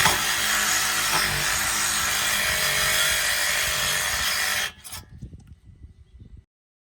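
A cutting tool grinds harshly and steadily through the outer ring holding a VW ALH TDI axle, then stops abruptly, followed by a few scattered clanks and knocks before silence.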